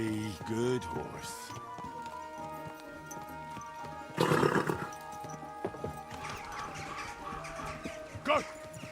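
A horse in the Kingdom Come: Deliverance 2 video game clip-clops along and lets out loud whinnies, hoofbeats steady beneath the neighs, while someone talks over it.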